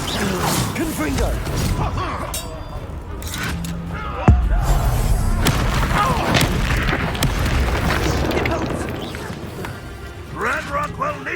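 A Confringo fire spell bursts with a sharp, loud blast midway through a busy Hogwarts Legacy fight, surrounded by rumbling combat noise, impacts and shouting voices.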